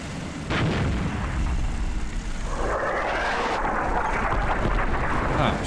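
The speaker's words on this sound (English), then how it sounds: "I thought I killed their mortars." Enemy mortar fire in the game Armored Brigade II arrives as deep, rumbling blasts and a sustained roar of battle, loud and continuous, with a low engine-like drone running underneath.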